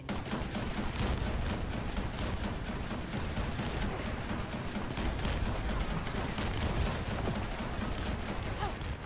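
Relentless automatic gunfire from a shooter match in The First Descendant, dense overlapping bursts and explosions filling the whole stretch loudly without a break.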